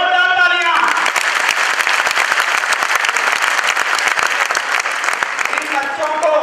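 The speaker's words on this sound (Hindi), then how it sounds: "तो इनके लिए जोरदार तालियां।" Loud, vigorous applause from an audience for gurukul students after a bhangra performance, dense clapping filling the middle while a voice speaks briefly before and after it.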